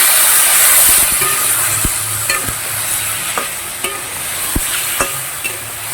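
Turmeric and water go into a hot pan for a Bengali bata fish curry, bringing loud sizzling and hissing with several sharp spoon clinks against the pan, close and without speech.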